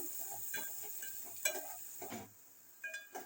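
Onions sautéing in a pan with green chillies and grated ginger: a soft, steady sizzle with occasional scraping stirs of a utensil against the pan, faint and close.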